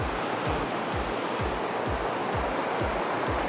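Water rushes steadily at Khlong Lan waterfall in Kamphaeng Phet's Khlong Lan National Park, a constant broad roar of falling and splashing water with no pauses, heard close by.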